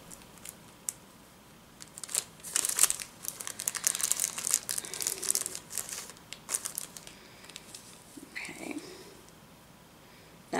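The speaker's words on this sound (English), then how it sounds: "It's easy to find the center of a piece by folding it one way." Cross-stitch fabric folded and creased by hand, a close, irregular run of crinkling and rustling bursts that fill the middle stretch before trailing off into quieter handling.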